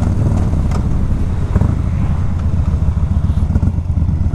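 A 2014 Yamaha Bolt motorcycle slows down through its gears, its engine rumbling loud and close with uneven throttle pulses and wind noise, and no talking.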